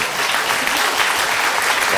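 Audience applause at a skepticism talk, a dense, steady burst of clapping from a crowd filling the whole short moment.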